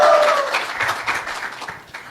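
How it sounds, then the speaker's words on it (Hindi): Audience applause at a live satirical comedy show, a dense wash of clapping that starts loud and gradually fades over a couple of seconds, with no talking over it. "मोदी जी के लिए ताली बजाइए साथियों।"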